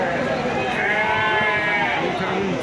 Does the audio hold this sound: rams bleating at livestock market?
yes